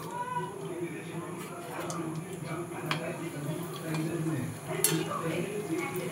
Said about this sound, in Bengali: আমি গোলাপ জামগুলো ভেজে নেব।